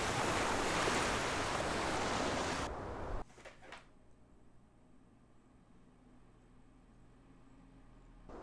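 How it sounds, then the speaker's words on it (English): Game beach waves ambience built in Unity 3D: rushing waves and surf fill the first few seconds loudly, then abruptly cut to a quiet, faint watery ambience that lingers softly. "So we've developed our little beach water setting."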